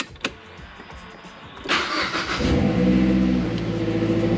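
A 2012 Mazdaspeed 3 engine cranks briefly, catches and settles into a steady idle rumble, heard close up with no talking.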